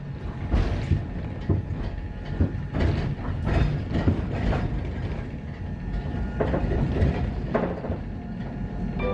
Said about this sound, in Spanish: Y sí, tomaremos este tranvía.